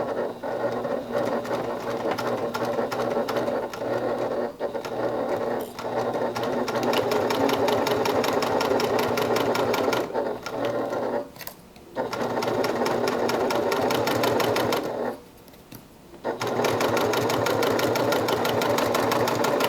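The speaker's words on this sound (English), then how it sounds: "So we're going to go to the machine and get that stitched." Sewing machine stitching a seam, a close, steady rapid mechanical whir with brief pauses in stitching.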